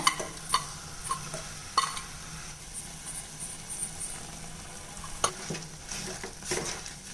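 Jaggery in ghee is stirred in a pan over a medium flame, giving a quiet low sizzle broken by irregular spoon taps and scrapes against the metal.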